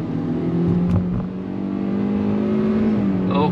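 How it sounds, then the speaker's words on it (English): A 2023 Hyundai Verna 1.5 CVT in sport mode pulls hard, its engine note rising steadily in a smooth, close, continuous drone from inside the cabin. "We are obviously driving on sport mode, and let me show you how the car is getting launched once again"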